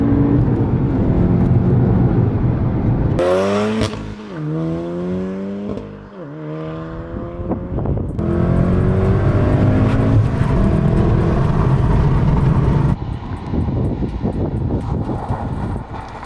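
A tuned VW Golf R MK7 in DK400 spec, around 460 bhp, accelerates hard through the gears. The engine roars loud and close, with rising pitch sweeps broken by short gaps at each shift.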